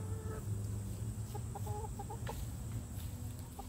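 Chickens at a coop give soft, clipped clucks in a short burst of a few notes, faint against a steady outdoor hum.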